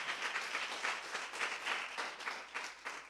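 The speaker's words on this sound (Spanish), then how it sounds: "Dele una ofrenda de palmas al Señor." A congregation claps in worship during an evening church service, offering applause to the Lord in rhythmic surging waves, moderately faint and without speech.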